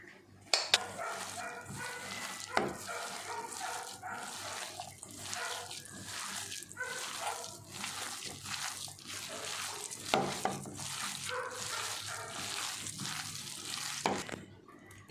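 Chicken toast mixture with green chilli sauce and soy sauce is stirred and mashed in a bowl, making wet, squelching mixing sounds with irregular clacks of utensil against bowl, close and moderately loud.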